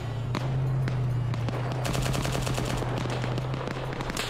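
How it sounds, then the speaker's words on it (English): Rapid bursts of automatic gunfire from a combat video game, a steady loud chatter of shots over a constant low engine-like hum, continuing throughout with no talk. "Cestus is getting shot at back here."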